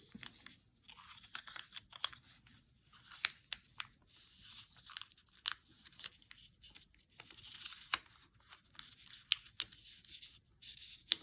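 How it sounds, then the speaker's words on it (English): Sheets of paper being creased and folded by hand for origami flowers, with soft crinkles and sharp crisp presses coming in irregular bursts, close and fairly quiet, no voice over them. "Line it up and fold and repeat."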